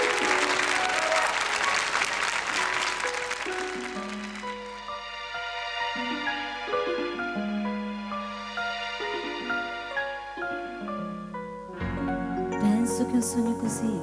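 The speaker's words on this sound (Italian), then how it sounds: "al quale farei un grande applauso" A studio audience at a San Remo special on a television show breaks into loud, sustained applause that fades out after a few seconds as music begins under it.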